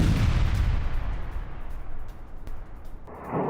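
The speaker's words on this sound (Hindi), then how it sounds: "धमाके की आवाज आप सुन सकते हैं" A heavy explosion from a drone strike booms loudly at the start, its rumble slowly fading, with a sharp crack midway and another burst of noise near the end.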